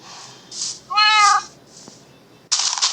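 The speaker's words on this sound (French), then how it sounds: "Vous entendez miauler?" A single clear cat meow from the game Minecraft rises and falls, close and distinct, amid soft breathy noises and a brief burst of hiss at the end.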